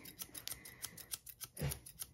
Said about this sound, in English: I chose the ones that were the smoothest opening and closing here.